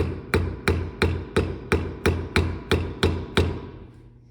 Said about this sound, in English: very important that you hold the chisel vertical like this, and then just go straight down